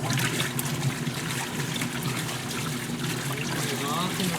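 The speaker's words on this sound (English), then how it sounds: "This one now has full water pressure, and we'll fill the rest of its way." Water runs steadily into a Maytag washing machine as it fills, a constant trickling rush up close, with people talking over it.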